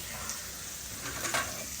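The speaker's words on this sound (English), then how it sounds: "further away from the sizzle" Steady sizzle of potatoes frying in a pan, a soft crackling hiss heard from a little distance, continuous throughout with a slight swell near the end.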